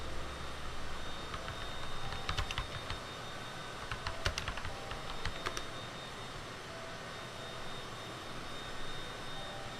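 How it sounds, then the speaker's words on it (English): Keys clatter on a computer keyboard in short clustered bursts of quick taps, fairly close, over a steady droning engine-like background hum with no speech. "Let me type in the Lambton suburb."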